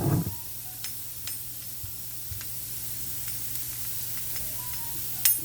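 Oil sizzling on a hot grill pan while vegan scallops are prepared. A brief burst at the start gives way to a steady, faint hiss with scattered tiny crackles and one sharper spit near the end.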